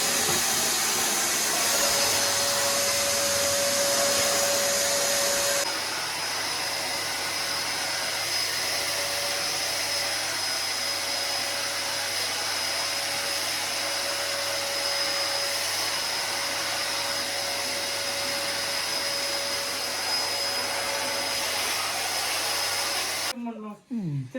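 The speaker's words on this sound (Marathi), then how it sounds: "भैयाने काय व्हॅक्युम क्लिनर आणलेला आहे आणि भरपूर मोठा आहे व्हॅक्युम क्लिनर" A large household vacuum cleaner runs continuously nearby with a steady, broad whooshing roar and a faint whine, unchanging for over twenty seconds before cutting off at the end.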